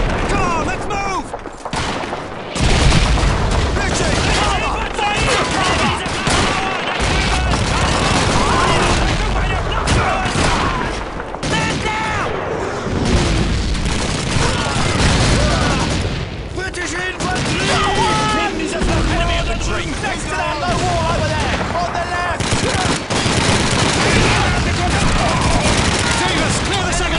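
Sustained machine gun fire and a dense fusillade of rifle shots with booms in a Call of Duty 2 World War II battle, loud and continuous throughout, with shouted voices mixed into the chaos.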